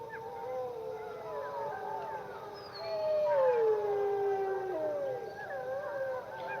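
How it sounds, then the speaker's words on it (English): A wolf howls in the distance with long, drawn-out tones and a second howl joining in, a steady outdoor background hum beneath, no talking. "I think it was a wolf."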